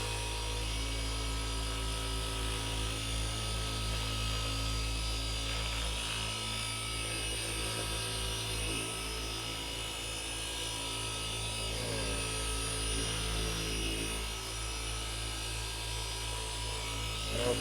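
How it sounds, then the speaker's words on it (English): A car polishing machine, sped up to a higher setting, buffs paint with a continuous close electric buzz and whirring drone that holds steady throughout, with only slight shifts in pitch. "then I speed up the machine, like second step, to break down the particles"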